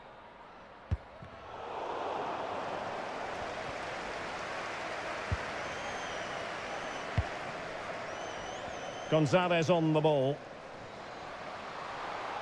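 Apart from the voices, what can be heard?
crowd cheering in FIFA 23 video game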